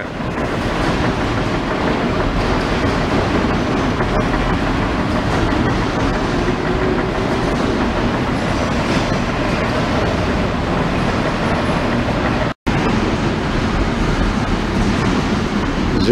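A Stokes 35-station rotary tablet press running, giving a steady, loud mechanical rumble and clatter throughout with one brief cut near the end.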